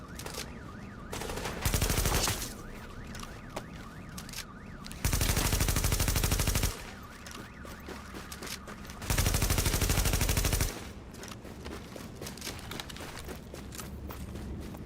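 Automatic weapon fire in the video game Tom Clancy's The Division, three long loud sustained bursts separated by quieter stretches of footsteps and ambient game sound, with no talking.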